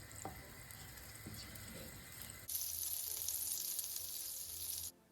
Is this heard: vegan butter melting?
yes